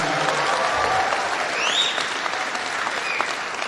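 An audience at an event against violence toward women in Papua New Guinea applauds a woman after her poem recital: sustained, dense clapping with a few sharp whistles rising through it.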